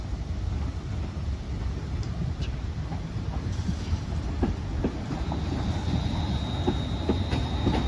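A pair of London Northwestern Railway Class 350 electric units run through Crewe station with a continuous low rumble, clattering wheel clicks over rail joints and a faint high whine, with no talking over it.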